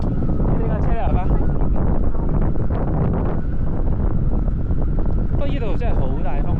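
Strong wind batters the microphone at Auckland harbour, a loud, constant rumbling roar throughout, with a voice speaking over it in places.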